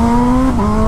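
A BMW S1000RR Pro with an inline-four engine, Akrapovic full-system exhaust and quick shifter revs loudly and close, holding a steady high engine note that dips briefly mid-rev before settling again.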